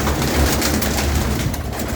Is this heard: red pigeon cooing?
yes